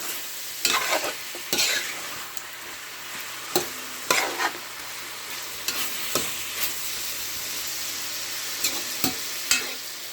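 Chicken sizzling in a pot as it is stirred to coat it with sugar, a steady frying hiss broken by repeated scraping strokes of the spoon, close and without speech.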